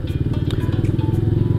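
A 2018 Honda PCX scooter engine idles smoothly at a steady, even pulse, running close and continuous with a faint voice in the background.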